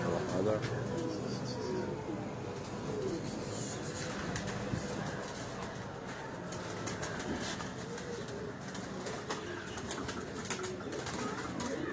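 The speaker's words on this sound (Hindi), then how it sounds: "उनके बहुत सारे कबूतर जो हैं वो इस छत पे जो है वो परफॉर्म कर रहे हैं।" Pigeons perform on a rooftop, their soft cooing and wing flutters mixed into a busy outdoor bed of steady noise, with people talking over it throughout.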